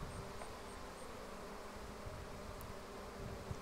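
Honey bees buzzing steadily around an open hive during an inspection of brood and honey frames, a dense continuous drone close by with no voices.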